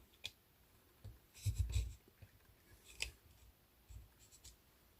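A blade trims a tiny bit off a TRX-4 RC truck skid part, giving a few sharp, quiet snips and clicks spread across the moment, with a brief scraping cluster near the start and isolated cuts afterward.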